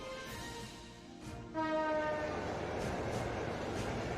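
A train at a huge military fortress in the Trails of Cold Steel video game sounds long horn blasts, then a dense rolling rumble of rail cars takes over and grows louder, with no talking.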